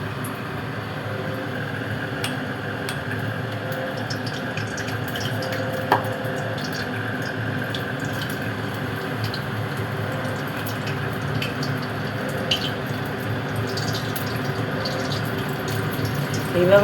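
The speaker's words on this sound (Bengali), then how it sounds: "তেল আমার গরম হয়ে গেছে, আর একটা করে মাছের পিস দিলাম" Pieces of katla fish belly, coated in batter, fry in hot oil with a steady, close hiss and fine crackle that runs unbroken, with occasional small pops.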